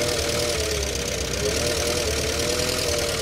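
A Renault 4L engine idles steadily while warming up with no choke, a continuous low mechanical rumble with a faint knocking texture, close and even throughout with no voices.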